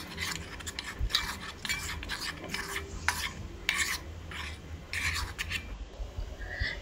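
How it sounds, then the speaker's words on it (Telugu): Powder being stirred into milk in a bowl, a quiet, steady run of soft rhythmic scraping and swishing strokes, close up and alone. "మనం చిన్నగా ఇలా ముద్దలు లేకుండా కలుపుకోవాలి"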